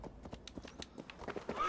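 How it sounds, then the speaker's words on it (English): A horse gallops in Assassin's Creed Valhalla, its hooves drumming in a fast, uneven run of soft thuds at a modest level, with a faint voice briefly underneath. "Sometimes your horse shows up in when you call it, and other times it just doesn't."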